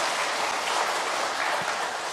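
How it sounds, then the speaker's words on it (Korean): A church congregation at a Sunday worship service applauds warmly, a steady, thick wash of many hands clapping that holds evenly throughout with no talking over it. "우리 한번 박수 한번"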